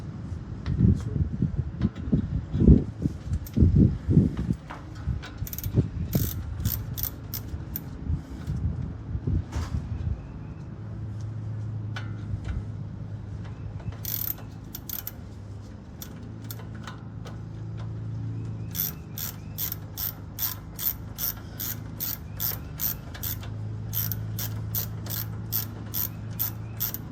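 Socket wrench ratcheting on a 2004 Dodge Ram front suspension nut, a fast run of sharp clicking bursts repeating close up after a few louder metallic knocks early on.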